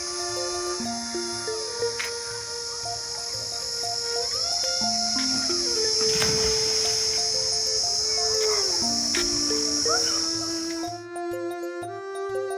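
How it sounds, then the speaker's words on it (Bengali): Crickets in a huge tamarind tree beside an old temple on the bank of the Ganges keep up a continuous shrill trill, layered with stepped tonal sounds. "ঝিঝি পোকার ডাক আসছে সমানে।"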